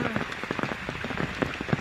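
Heavy monsoon rain in Amkhol, Dapoli, pattering steadily on a surface nearby, a dense, even patter of drops with no pause.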